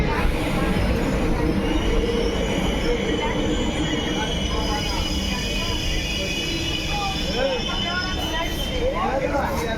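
A passenger train on the Kurnool to Mahbubnagar line near Gadwal junction rumbles steadily at close range, with a thin wheel squeal above it and some talk mixed in.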